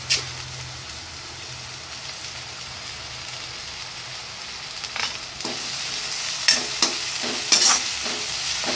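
Three green chillies and two sprigs of curry leaves frying in a pan for spicy pasta, a steady close sizzle with scattered sharp pops and crackles and some stirring clinks building toward the end.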